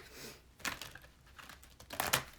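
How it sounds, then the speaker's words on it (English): Tarot cards being shuffled by hand, giving soft crinkly riffles and papery flicks in two brief bursts, fairly close and quiet with no talking. "So I'm going to stop and just shuffle the cards."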